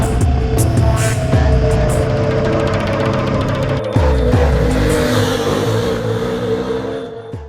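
Ducati XDiavel V-twin cruiser motorcycle riding past, its engine note loud and close with revving swells and a brief dip midway, fading slightly toward the end.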